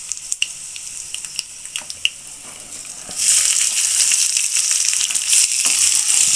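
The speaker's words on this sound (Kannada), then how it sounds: "ಈಗ ಈರುಳ್ಳಿ ಹಾಕ್ಕೊತಾ ಇದ್ದೀನಿ" Chopped onions hit hot oil with golden-fried lentils for shavige upma, bursting into a loud, steady sizzle after a few quiet taps and clinks from the pan, then hissing continuously to the end.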